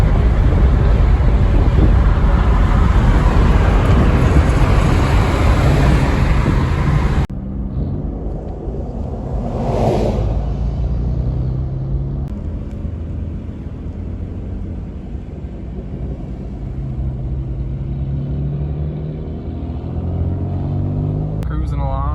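A car cruises along a desert road toward Tortilla Flat with a steady low engine and road rumble under wind buffeting. The rush drops noticeably partway through, and people talk over the drive.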